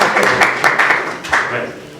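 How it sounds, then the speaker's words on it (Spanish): A short burst of applause from an audience for the director of La Tribuna de Toledo, steady clapping that fades out over two seconds. "un fuerte aplauso"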